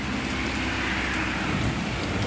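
Heavy rain with small pebble-sized hail pelting down during a thunderstorm, a loud, dense, continuous hiss of drops and pattering impacts with no pauses.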